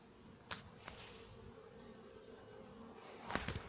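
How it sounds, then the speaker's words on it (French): Honeybees buzz steadily close by at a hive entrance in an apiary, a soft continuous drone with a few sharper flickers of wings passing near. "Il y a de l'activité à la sortie des ruches, c'est pas mal. Ça bouge, on entend les abeilles."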